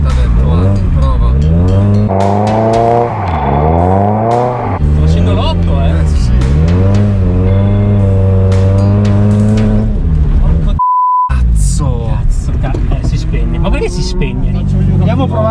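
A Nissan Silvia drifting sideways across an open lot, its engine revving in long rising and falling sweeps with tire squeal, loud and close, broken by a brief beep and followed by talking.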